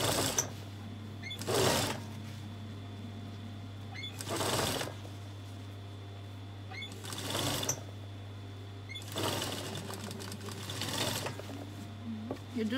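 A sewing machine understitches close to an existing seam on an Igbo blouse lining, running in five short bursts spaced evenly apart over a low steady hum, with quiet pauses between.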